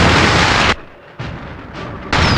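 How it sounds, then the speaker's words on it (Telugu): Firecrackers and bombs blast in a movie action climax, loud dense explosive bursts filling the opening stretch, then a lull with scattered pops before another heavy burst at the end. "ఇక్కడ రకరకాల టపాకాయలు బాంబులు పేలుతున్న చప్పుడు వింటున్నావా?"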